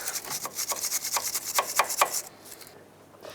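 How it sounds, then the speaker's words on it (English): A wire brush scrubs the brake caliper surface of a 2003-2009 Toyota 4Runner's front brakes, where the pad ears ride, in a rapid series of close, raspy strokes that stop and leave near quiet at the end. "you can use a wire brush and gently scrub off the surface here where the pad ears ride"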